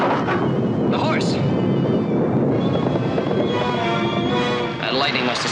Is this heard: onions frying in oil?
no